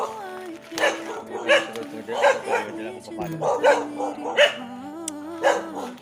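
A dog barks repeatedly in short, sharp yips, fairly close, with some whimpering tones in between.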